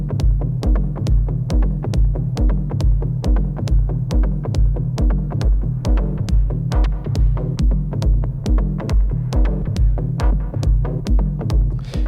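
A Cwejman SM-1 synthesizer module with DP4 reverb pulses in a steady, throbbing low rhythm, with sharp clicky transients on each beat, continuous and loud with no voices.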